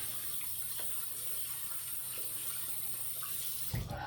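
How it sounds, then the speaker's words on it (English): Tap water runs steadily into a marble shaving bowl being rinsed in a sink, a faint continuous hiss with a brief louder splash near the end. "I'm gonna rinse out my bowl here"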